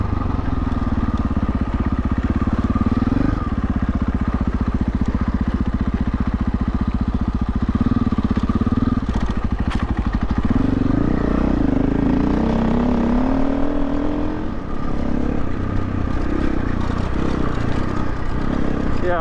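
A KTM off-road motorcycle is ridden with a steady, close engine drone that rises and falls in pitch as the throttle changes, with a rough revving stretch partway through.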